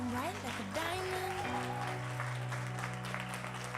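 Audience applause at the Success Day Paris 2015 event, a steady wash of clapping blended with loud music carrying sustained tones and gliding pitches.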